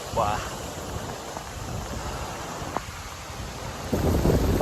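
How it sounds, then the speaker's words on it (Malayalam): Heavy rain pours in a steady, dense hiss with low rumbles of thunder at the Tyngam Masi viewpoint, Laitsohpliah, Cherrapunji, while people talk intermittently over the downpour. "ഓ ഇടിലം മഴ കേട്ടോ ഒന്നും പറയണ്ട"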